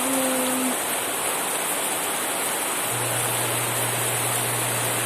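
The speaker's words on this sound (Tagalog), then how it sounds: "Lakas na ng ulan guys oh." Heavy rain pours down around a nipa hut, a loud, steady hiss of rainfall with no break, with faint tonal hums underneath.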